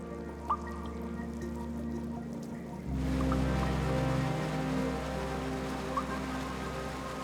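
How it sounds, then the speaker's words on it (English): A waterfall deep inside a pitch-black Alpine mountain cave, heard as a steady, dense rushing wash of falling water that swells louder partway through and then holds, with faint drips and no voices. "In the pitch-black belly of the mountain, a waterfall."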